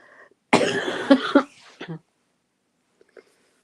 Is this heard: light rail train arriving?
no